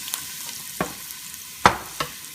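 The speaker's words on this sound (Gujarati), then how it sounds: "જેટલું આપણે આ ડુંગળીને સોતરશું એટલું જ એટલું ફાઇન એમાંથી સ્વાદ નીકળશે" Chopped onions sauté in a pan for a curry, with a faint, steady sizzle and a few sharp scrapes and knocks of a spoon stirring them. The sound is close up and there is no talking.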